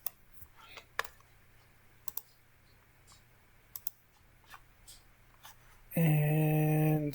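A computer mouse clicks in a sparse series of sharp, close taps during work on a curtain wall panel family, with quiet gaps between clicks before a loud tonal hum cuts in near the end.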